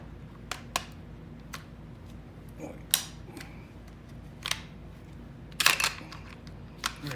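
Taurus G2C 9mm pistol being reassembled by hand gives a few sharp, close mechanical clicks and snaps, scattered and quiet, with the loudest cluster near the end.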